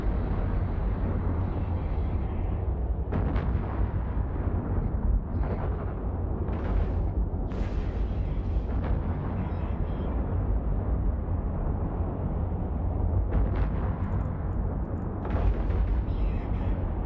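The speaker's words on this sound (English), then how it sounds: "I want to watch the explosion anyways." Explosions and booming bursts in the space game Eve Online, a dense, loud rumble with several sharp blasts scattered through it, continuous and low-heavy, with a voice talking over it.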